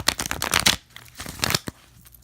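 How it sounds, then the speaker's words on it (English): A large round tarot deck of lightly laminated cards is shuffled by hand, close up. It gives a series of quick riffling, slapping bursts with brief pauses between them and no talking. "Give it another good shuffle"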